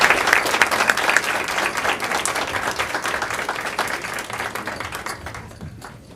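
An audience at a school board meeting gives a sustained round of applause, dense clapping that is loud at first and then slowly tapers off, with no talking over it.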